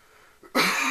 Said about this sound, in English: It's making me cough up a lot of mucus.